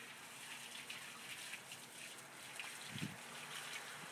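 Garden watering onto tomato plants, a steady spray of water hissing and pattering on the leaves, with a slightly louder splash near the end.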